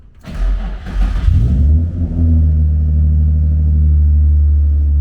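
A car engine, just after an ABS pump install, cranks briefly and catches, then settles into a low, steady idle with deep rumble, close up and alone.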